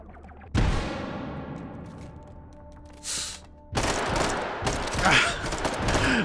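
Gunfire in the VR shooter Hot Dogs, Horseshoes & Hand Grenades: a sharp blast followed by a ringing decay, a short burst, then dense rapid automatic fire with echoing reports, loud and close.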